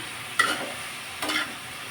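Shredded cabbage fries in oil in a pan, a constant low sizzle broken by two sharp stirring scrapes about a second apart, close by and with no voices.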